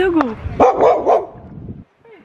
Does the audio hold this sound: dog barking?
yes